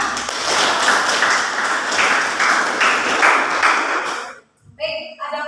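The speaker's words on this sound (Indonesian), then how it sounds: "Ya berikan aplaus dulu untuk kita semua." Loud, dense applause from a group of participants in a teacher-training classroom session, steady for about four seconds, then breaking off into a brief pause before a few scattered claps and a bright ringing ping.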